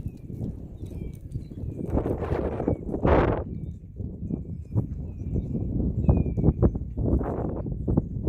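A horse walks an outdoor obstacle course, its hoof clops scattered and uneven across the whole stretch, with steady wind noise and a bird calling in the background.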